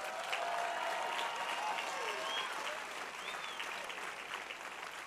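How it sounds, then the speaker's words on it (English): Sustained applause from a large audience at a university commencement ceremony, dense steady clapping across the whole stretch, easing slightly toward the end. "I'd like us all to send a very warm round of applause to all of our supporters, our parents, our faculty, and our friends who have gotten us here today"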